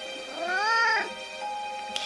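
A single clear cat meow in a video game, rising then falling, moderately close and alone against a faint electronic hum.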